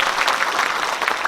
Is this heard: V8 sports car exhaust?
no